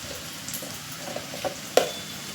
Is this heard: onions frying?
yes